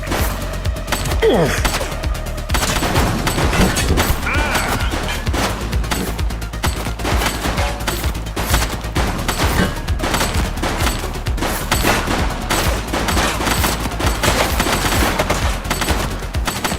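Sustained rapid gunfire crackles through a shootout in The Precinct, dense overlapping bursts of automatic fire running almost continuously, loud and close, with occasional gasps among the shots.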